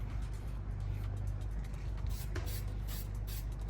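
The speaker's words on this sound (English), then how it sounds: "And I'm gonna show you guys how to spray paint." Spray paint hissing onto a Mustang headlight, steady airy spray bursts up close over a low background hum, with the hiss rising in the second half.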